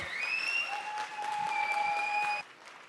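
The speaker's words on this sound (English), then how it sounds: "Please give her a big applause." Audience applause at an STC India volunteer event, a steady dense wash of clapping from a crowd that holds for over two seconds, then drops off abruptly, with faint sustained tones running through it.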